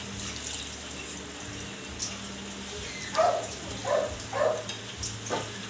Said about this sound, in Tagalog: So maglagay po tayo ng tubig.